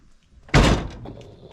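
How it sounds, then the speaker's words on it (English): A big, heavy garage door slides and slams shut in one loud, close thud that dies away quickly into a quiet room. "Big old heavy doors."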